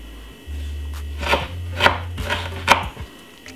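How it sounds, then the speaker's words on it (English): A knife slices through a piece of ginger on a cutting board, with about four crisp, separate cuts spaced roughly half a second apart over a low steady hum, close and fairly loud. "Slice off a piece of a ginger."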